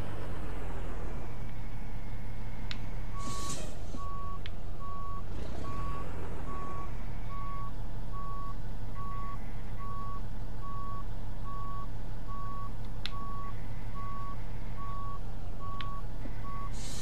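A truck backs up toward a parked trailer, its reversing alarm beeping in a steady, evenly spaced series over a loud, constant engine rumble, with a few clunks and thumps early on.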